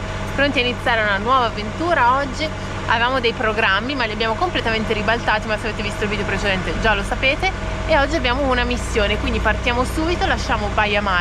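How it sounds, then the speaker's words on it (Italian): A van's engine rumbles low and steady beneath continuous close male speech in Italian, as a road trip sets off from Baia Mare, Romania. "È il rombo del viaggino che ci dice che siamo pronti a partire"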